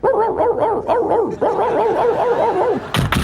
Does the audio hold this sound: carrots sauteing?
no